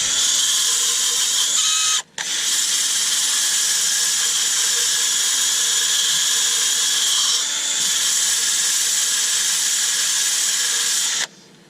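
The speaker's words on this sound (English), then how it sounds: "machine sanding with a hand" A power sander whirs steadily at close range with a bright, high-pitched hiss, cutting out briefly near the start and stopping just before the end.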